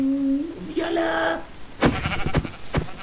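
Sheep bleating in a video game, a few wavering calls up close with short percussive knocks and game sounds following.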